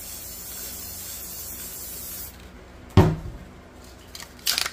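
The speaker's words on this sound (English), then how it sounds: "Clear coat, gonna spray it evenly so there's no weird effects later on." A spray paint can laying down clear coat for spray paint art gives a steady close hiss that cuts off, followed by a sharp knock and brief bursts of spray.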